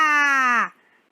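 An elephant gives one loud, close trumpeting call, a bright tonal blare lasting about half a second that rises slightly and then cuts off.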